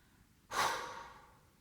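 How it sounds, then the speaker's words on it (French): A single strong exhale rushes out in a long, breathy sigh during a relaxation exercise, beginning abruptly and tapering off slowly with no talk over it. "Et soufflez fortement pour évacuer les éventuelles tensions."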